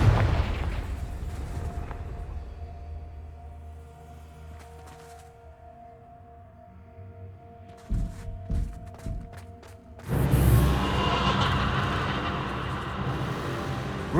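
Confringo blasting spell in Hogwarts Legacy bursting with loud booms, a sharp explosive hit near eight seconds and a heavier blast around ten seconds that rumbles on, over quiet low game ambience with no talk.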